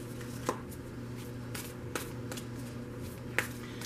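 Tarot cards shuffled by hand, a few soft close riffling and tapping snaps spaced irregularly over a low steady background hum.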